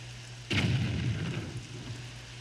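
A cannon shot explodes in The Legend of Zelda: The Wind Waker during a pirate shooting game, one sudden booming blast with a rumbling tail that fades over about two seconds, moderately loud over a faint steady hum.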